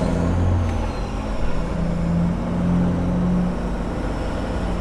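Deep, rumbling engine from a Peterbilt 379 truck with a 7-inch straight pipe and the Jake brake on, a continuous close low drone that swells and eases without pause.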